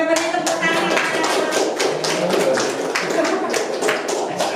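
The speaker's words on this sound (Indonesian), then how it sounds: "Ya, Oke, beri tepuk tangan." Audience applause in a school training-session hall: dense, steady clapping from a group of people filling the whole stretch at an even level, with scattered sharper individual claps on top.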